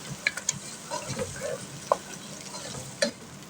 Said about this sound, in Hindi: इसके बाद हम इसमें डाल देते हैं ये टमाटर। इसको थोड़ा सा भून लेते हैं